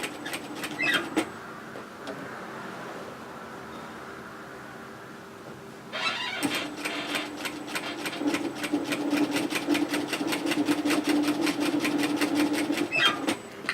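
A sewing machine stitches a hoodie's side split in two runs, first a brief burst, then a pause with faint hum, then a longer steady rapid needle rattle close by.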